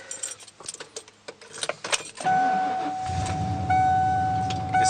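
A bunch of keys jangles and clinks up close for about two seconds. A steady electronic chime then rings as a vehicle with a 460 engine and 5-speed manual transmission starts and settles into a loud, even idle.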